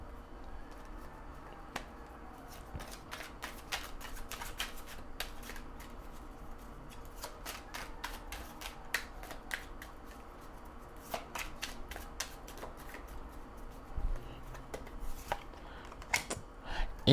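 Oracle cards being shuffled by hand, a continuous run of soft riffling and flicking card clicks close up, with brief sharper snaps scattered through and no talk.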